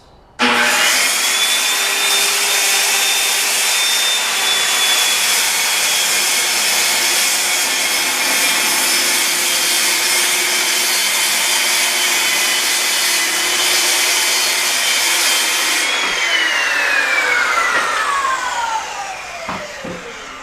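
Circular saw ripping through a wooden cabinet workpiece along a straight edge, a loud sustained whining cut lasting about fifteen seconds before the blade spins down.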